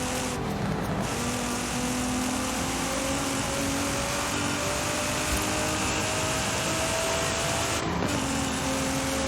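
A Nissan Z fitted with an upgraded exhaust in the Forza Horizon 5 racing game drones steadily at a loud, even pitch, with a sustained engine note and no pauses.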